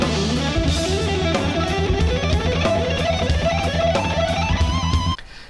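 Electric guitar plays continuous scale runs and licks with dense, quick picked notes over steady low accompaniment for about five seconds, then cuts off abruptly; no talking.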